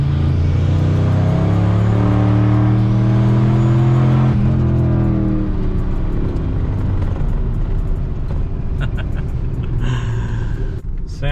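A turbocharged 2003 Ford F150 engine revs hard under boost in freezing temperatures, a loud, close, sustained roar with rising and falling pitch and turbo whine.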